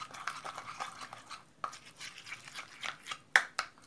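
Chicken legs being mixed with masala by hand, a run of soft, close, wet squelching and rubbing sounds with quick irregular rhythm and one sharper click near the end.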